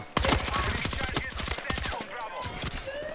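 Rapid bursts of gunfire in an online multiplayer shooter game ring out in close, loud volleys. Short pauses break the runs of automatic fire. A faint voice can be heard under the shooting.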